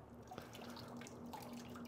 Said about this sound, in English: I do have a little bit of a water drip coming from this junction